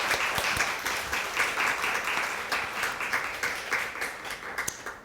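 A church congregation claps during a Sunday worship service, a broad crackling wash of many hands that holds steady and slowly fades toward the end, with a few louder individual claps near the close.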